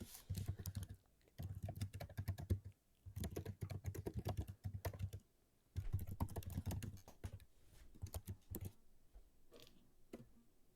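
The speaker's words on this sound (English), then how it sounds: "What are you typing up, Zach?" Rapid bursts of keyboard typing come in several clustered runs separated by short pauses, close and fairly crisp, with little else in the room.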